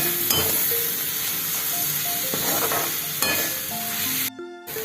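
Steady sizzling of spinach sautéing uncovered in a pan, with occasional stirring scrapes and clinks of a utensil throughout.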